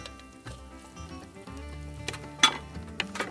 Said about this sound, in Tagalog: So we have our ginger and lemongrass sauteing